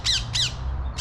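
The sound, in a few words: macaws squawking, parakeets nearby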